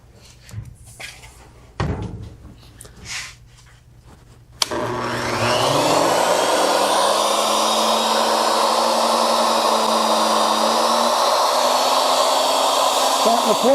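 A wood router with a 3/4 inch bit spinning around 15,000 RPM and cutting into a wooden cutting board, starting with a sharp switch-on after a few quiet knocks, then a loud steady high whine that holds to the end.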